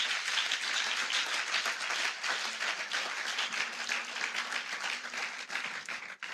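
A church congregation at a Sunday service claps steadily and densely for several seconds, a loud, sustained wash of applause with a faint voice beneath it.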